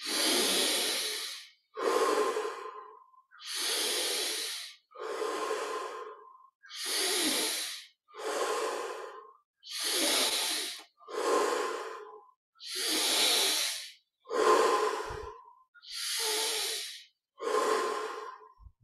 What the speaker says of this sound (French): Pour les 10 dernières respirations, un peu plus d'amplitude.